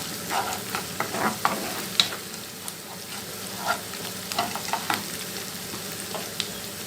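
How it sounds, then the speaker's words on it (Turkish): Grated potato filling is stirred in a frying pan, giving a steady soft sizzle under repeated scraping and clicking strokes of a spoon against the pan, spaced unevenly across the clip. "Şöyle bir tur karıştıracağım."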